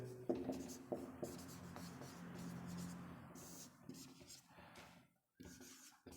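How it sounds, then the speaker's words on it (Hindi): Writing during a classroom physics lecture on motion: scratchy strokes on a board come in short bursts with brief pauses, fairly faint and close, and a voice murmurs faintly underneath. "तो डिस्टेंस हम लिख लेते हैं।"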